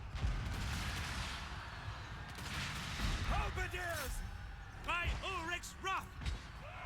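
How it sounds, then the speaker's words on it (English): Battle sounds from Total War Warhammer 2, with booming cannon-like blasts and distant clatter under a busy battlefield din, while shrill creature screeches rise toward the end. "Cannons fire!"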